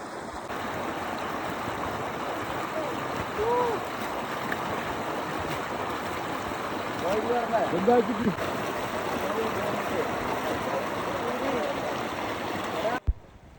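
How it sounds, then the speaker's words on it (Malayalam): A waterfall on the Meesapulimala trek pours in a continuous broad rush of water, fairly close and steady, with faint voices murmuring underneath. "ഇതാണ് ഇവിടുത്തെ മനോഹരമായ വെള്ളച്ചാട്ടം"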